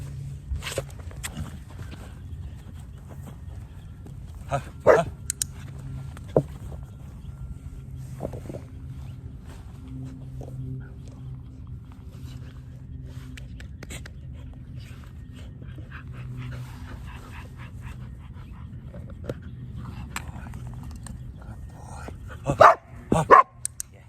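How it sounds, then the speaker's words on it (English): Occasional sharp dog barks ring out over a low steady hum, sparse at first, then a quick cluster of louder barks near the end. "I can capture that barking."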